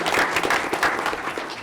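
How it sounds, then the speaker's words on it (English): A room at a school board meeting breaks into a brief burst of applause for an external auditor, many hands clapping at once and then fading slightly. "Let's give him a round of applause."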